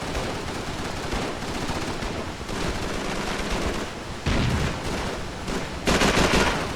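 Rapid automatic weapon fire crackles in dense bursts during a town-clearing battle in Call of Duty 3 on PS2, a continuous barrage with a few sharper, louder volleys.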